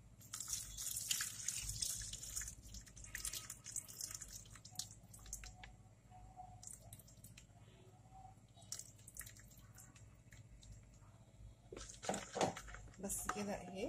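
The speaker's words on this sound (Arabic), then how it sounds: "وهنحط عليهم عصير الليمون" Lemon juice pours over an olive mixture seasoned with safflower and nigella seeds, making soft, faint liquid trickling and dripping close by, with quiet kitchen clatter in the background.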